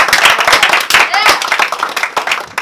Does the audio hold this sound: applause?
yes